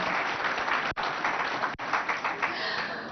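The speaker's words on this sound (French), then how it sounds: "On s'applaudit." An audience at a school TV show event applauds in a steady, crowded wash of clapping that fills the whole stretch, broken by two brief cuts.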